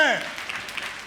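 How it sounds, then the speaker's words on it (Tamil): A Sunday church service congregation claps hands right after a brief voice, with a soft, scattered burst of applause that thins out and fades over about a second. "கைத்தட்டுங்க பார்க்கலாம்"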